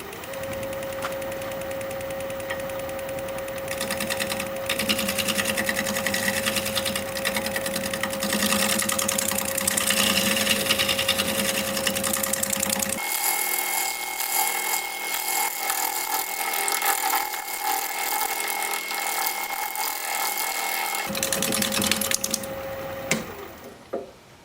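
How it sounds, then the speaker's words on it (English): A wood lathe spins while a shear scraper works a root, giving a continuous whirring and scraping with a steady tonal hum that shifts in character midway, then stops abruptly at the end. "Now I just want to do a little shear scraping."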